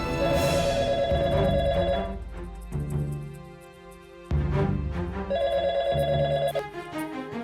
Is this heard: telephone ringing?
yes